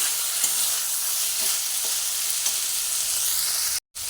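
Eggplant kofta curry masala with added sugar sizzles steadily in a hot pan while a spoon stirs through it, the frying hiss loud and constant with light scraping strokes and a brief dropout near the end.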